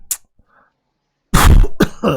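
A single short cough up close, followed by a pause and then someone talking loudly.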